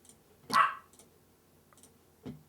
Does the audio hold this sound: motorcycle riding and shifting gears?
no